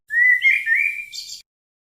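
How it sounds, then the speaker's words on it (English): A single bird call rises in a clear, bright whistled chirp that slides and wavers for just over a second before ending in a short buzzy note, close and clean against silence. "Bird."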